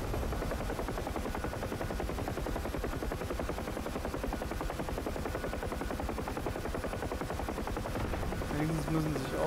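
Machine gun fire in a DCS Huey helicopter combat game rattles in a continuous rapid burst under a steady rotor drone, sustained throughout at moderate level.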